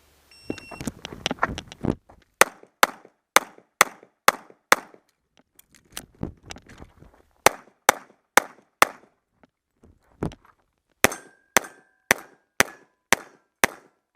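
Pistol shots on an IPSC training drill, including hits on three steel targets, ring out as sharp, loud cracks in quick regular strings with short pauses between bursts, some followed by metallic pings, with no talk.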